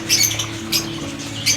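African lovebirds and parakeets squawking in a cage, three shrill bursts of chatter over a steady low hum, fairly close.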